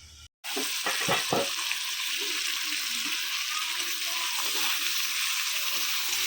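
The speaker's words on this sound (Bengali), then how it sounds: "এখন আবার কষিয়ে নিচ্ছি" Spices sizzle and fry steadily in a pan for a fish-head curry with potato and tomato, with a few soft stirring knocks early on under a continuous close hiss.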